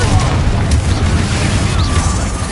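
A Confringo explosion spell in Hogwarts Legacy, a loud, dense, rumbling blast that roars without a break through the whole moment, alone with no speech.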